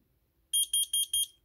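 A combination smoke and carbon monoxide alarm sounds four evenly spaced, loud, shrill high-pitched beeps in quick succession after a short silence.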